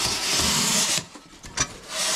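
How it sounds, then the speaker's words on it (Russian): A plain hand saw scrapes across Penoplex foam insulation board on a house wall, roughing the surface. The rasping is loud and steady for about a second, then a few short scratches follow before the scraping picks up again. "У нас вот есть такая вот пила обычная. Вот. И мы это все дело царапаем."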